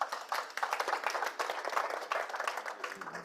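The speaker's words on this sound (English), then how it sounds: "So a round of applause for our panelists," A room of participants at a climate change policy dialogue claps for the panelists, brisk, fairly close applause with individual hand claps audible, continuing steadily and easing slightly at the end.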